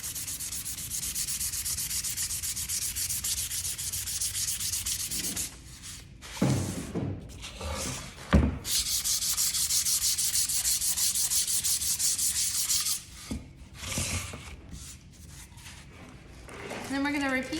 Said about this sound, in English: we want to make sure to sand again